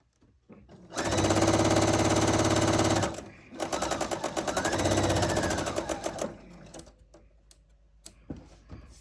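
A sewing machine stitches quilt block pieces at a 2.0 stitch length, running in two close bursts of rapid, even needle chatter separated by a short pause, followed by a few faint clicks, with no talking.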